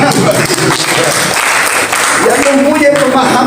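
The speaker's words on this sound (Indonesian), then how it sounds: "Berikan tepuk tangan." A church congregation at a fasting prayer service claps in a steady wash of applause lasting a few seconds, with a preacher's voice carrying on over it.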